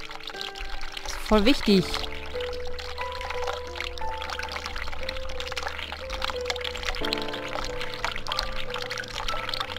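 Water runs from a tap in The Cat Lady video game, a steady pouring hiss under soft sustained background music, while a person talks over it.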